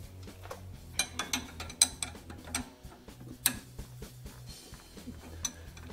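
Ring spanner working a bolt loose under the rear chassis of a W204 Mercedes C-Class: a steady run of sharp metallic clicks and light ticks in an uneven rhythm, close up, with no talking.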